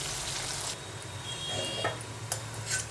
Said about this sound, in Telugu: కాస్త ఉల్లిపాయ పచ్చిమిరపకాయ వేయండి, ద్వారగా వేగనిద్దాం.